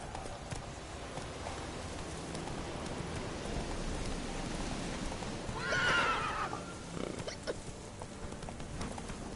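Roach, a horse in The Witcher 3 game, gives a loud rising whinny midway through, set against steady rain and soft clopping hooves.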